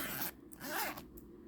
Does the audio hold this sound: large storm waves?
no